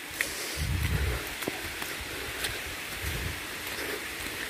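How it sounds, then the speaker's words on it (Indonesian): Steady rain falls on a forest footpath in West Java, a soft continuous hiss of drops on leaves with low rumbling thumps of movement now and then, close and even, with no talking. "Hujan terus bosku."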